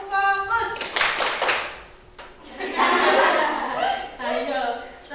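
A group clapping out a rhythm during a classroom ice-breaker clapping game, sharp bursts of hand claps mixed with chuckles and children's voices, with an adult speaking between the rounds.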